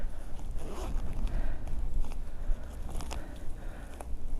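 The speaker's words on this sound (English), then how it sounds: "The bag has a zipper here." A zipper on a Michael Jordan crossbody bag is worked in a steady, faint rasping run, close by, with small clicks and rustles of handling and no talk.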